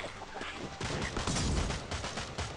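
Dense bursts of gunfire mixed with heavier launcher blasts from an under-barrel grenade launcher fill the mobile game Swamp Attack 2, loud and almost continuous throughout.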